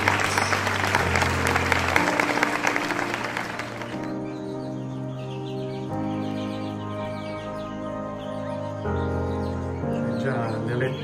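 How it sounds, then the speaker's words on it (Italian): People clapping for a newborn peacock chick just hatched from its egg, a brief burst of close applause that drops away into a sustained musical tone, with chirps and voices afterward. "Ci vuole un applauso"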